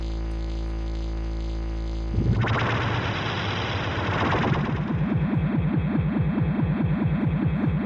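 Cannon fire in the Skies of Arcadia Legends video game: a sudden harsh, distorted blast burst out of a steady tone, then a rapid run of rhythmic mechanical pulses, loud and close with no talking.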